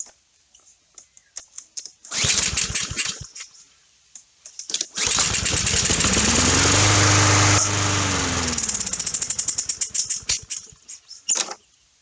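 A Honda GCV 160 small engine cranks and catches, running rough in uneven bursts for several seconds with a steady stretch, then sputtering and dying out in choppy pulses, loud and close.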